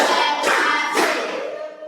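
A classroom of students claps hands together in rhythm, with two sharp broadband group claps about half a second apart standing out over a steady hum of background sound.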